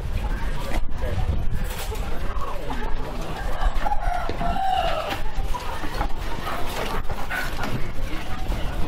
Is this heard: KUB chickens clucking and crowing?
yes